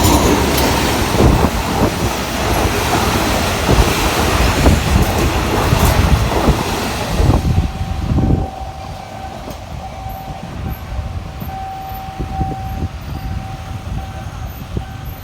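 A passenger train rounds a curve, rumbling loudly close by with rattling wheels, then fades into the distance while a thin wheel squeal lingers along the rails.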